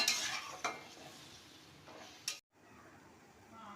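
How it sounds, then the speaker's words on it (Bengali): Mango pickle with jaggery bubbles gently in a pan over low gas, a quiet close simmer broken by a few spoon scrapes and clinks against the pan. "দেখো, গুড় আর আম ফুটছে।"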